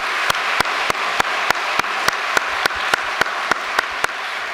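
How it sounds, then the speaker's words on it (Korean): Audience applause at a church ceremony, steady broadband clapping from a crowd that carries on throughout, with a string of sharp, evenly spaced clicks standing out on top of the applause. "다시 한번 큰 박수 보내주시면 고맙겠습니다"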